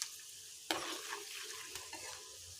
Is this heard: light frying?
yes